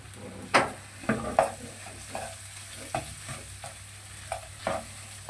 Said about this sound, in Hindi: अच्छे तरीके से इसमें मिक्स कर देंगे हम।